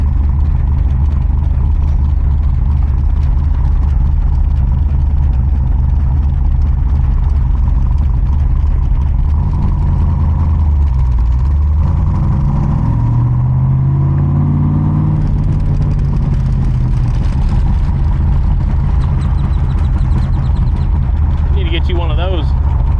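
A Cobra car engine with a carbureted tune-up runs loud and close, a steady rough idle rising into a couple of revs that climb and fall midway, with a person talking over the engine.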